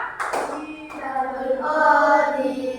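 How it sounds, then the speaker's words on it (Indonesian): A class claps together for group 3 in a classroom, a brief burst of hand claps at the start giving way to children's voices chanting a cheer. "tepuk tangan buat kelompok 3"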